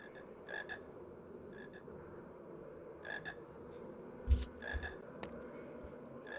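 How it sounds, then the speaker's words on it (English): A frog in a Harry Potter video game gives repeated rhythmic croaks in short pairs, moderately loud over a steady ambient game background hum, with a brief low thump partway through. "Oh, that's true, there's a frog there."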